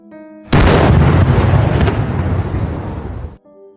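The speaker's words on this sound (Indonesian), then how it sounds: "kira-kira begitulah bunyi ledakan itu" A loud, sudden explosion bursts in and roars for about three seconds before cutting off abruptly, used as a sound effect within a spoken true-story tale about a mystical experience while gardening.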